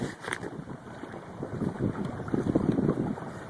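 A small motorboat moves across choppy open water, its steady engine hum mixed with wind buffeting the microphone and splashing waves.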